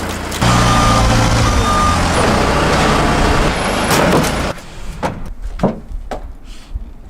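A forklift rated for 6,000 pounds lifts a car and carries it toward a driveway: a loud, steady engine and hydraulic drone for about four seconds, then quieter mechanical clunks and knocks.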